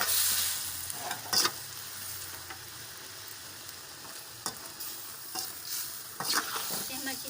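Sliced bitter gourd frying in a pan with salt and turmeric, a steady close sizzle broken by occasional scraping stirs of a spoon.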